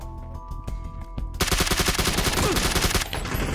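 Rapid automatic gunfire in the PUBG Battlegrounds video game, with a few sharp single shots and then a loud, dense sustained burst of fire that cuts off near the end.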